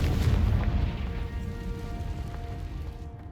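A fiery Confringo blast spell goes off in the video game Hogwarts Legacy, a deep booming explosion up front that rolls into a fading rumble with faint crackles over a few seconds.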